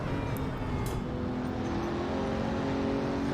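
A Pagani Huayra BC with its Mercedes-AMG-built V12 in Assetto Corsa holds a steady, loud engine drone with a constant whirring tone that neither rises nor falls much.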